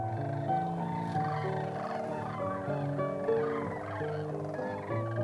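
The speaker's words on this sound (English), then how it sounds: "They have an incredibly bugle call or trumpeting call that's very distinctive" A flock of wintering Sandhill Cranes at a wildlife refuge gives overlapping rolling, trumpeting bugle calls, many birds calling at once in a continuous chorus at moderate distance.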